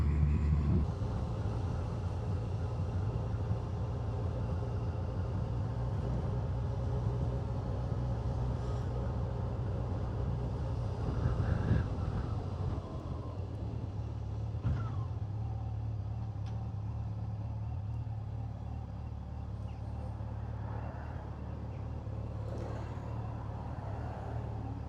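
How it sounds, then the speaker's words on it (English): Road traffic near Chatsworth in the Peak District, a steady low rumble of passing cars and heavier vehicles heard from close by, with a couple of louder swells as vehicles go past and no speech. "that was all the traffic coming from Chatsworth"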